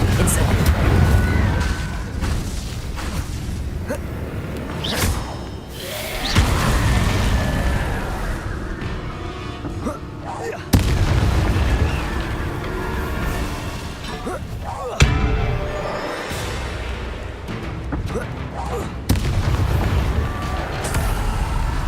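A Confringo spell explosion in Hogwarts Legacy: repeated booming blasts and thuds recur every few seconds within loud combat noise, with a voice speaking throughout.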